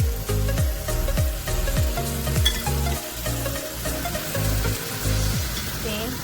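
Masala with yogurt sizzling and frying in a pan for mutton paya (goat trotters), a continuous loud hiss with repeated scraping strokes throughout.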